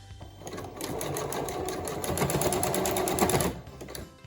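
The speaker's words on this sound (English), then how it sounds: "you're going to do a forwards and backwards lock stitch to start with" Domestic sewing machine stitching fabric for a scrunchie, a steady close rapid whirring stitch rhythm running for about three seconds with a brief change as it reverses for a lock stitch.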